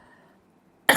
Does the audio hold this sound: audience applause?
no